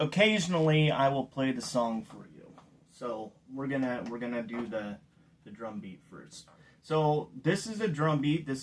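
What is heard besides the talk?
None of the usual background noises is heard.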